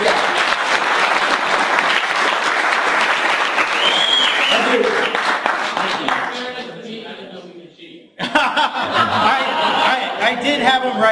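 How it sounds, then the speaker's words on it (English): A seminar audience breaks into loud, dense applause with scattered chuckles, the clapping thinning out and fading near the end before talk and renewed noise resume abruptly. "he deserves another round of applause"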